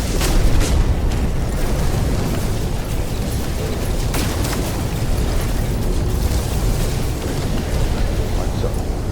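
Spaceship combat in a space video game, with dense, continuous blasts and booming explosions layered over steady weapon fire, loud throughout with sharp bursts near the start and middle.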